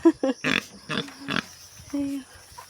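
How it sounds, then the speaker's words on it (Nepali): A pig grunts in short, close bursts, a string of snorting oinks with brief pauses between them. "यहाँ छ अर्को सानो सुँगुर"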